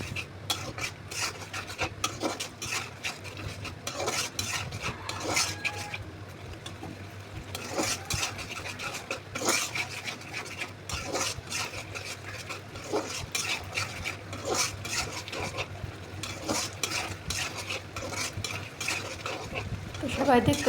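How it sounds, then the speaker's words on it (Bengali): Spiced masala paste being stirred and frying in a pan, a continuous scraping and rasping from repeated stirring over a steady low sizzle, close and fairly loud throughout with no talk. "মশলাটি কষানো এখনও পুরোপুরিভাবে শেষ হয়নি, যার কারণে আমি বারবার নাড়াচাড়া করে নিচ্ছি।"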